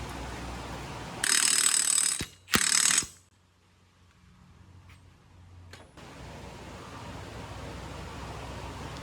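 A ratchet tightens a 27 mm axle nut on a Polaris Ranger 1000 XP NorthStar, with two loud bursts of rapid clicking separated by a short pause and a few faint knocks afterwards.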